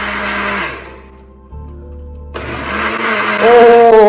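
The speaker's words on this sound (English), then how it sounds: "now we are going to blend into our puree" A kitchen blender purees tomatoes for butter chicken, its motor roaring loudly, dropping briefly, then surging back up to a higher whine, with no talking.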